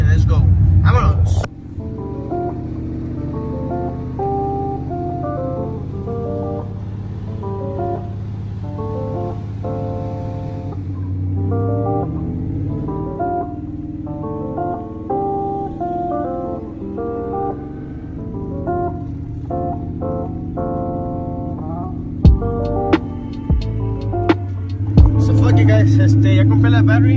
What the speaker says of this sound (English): Let's get this Bronco rolling and let's go.